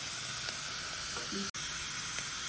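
Onion and garlic sauté in a pan with a soft, even sizzle and hiss, steady and close, with one brief dropout and no talking.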